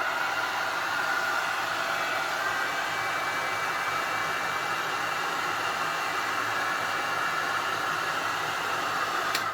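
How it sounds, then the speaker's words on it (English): A heat gun drying texture paste on a mixed media craft project at home blows a constant airy, whooshing hiss that stays steady for about ten seconds, with no talk. "We're going to use some heat gun."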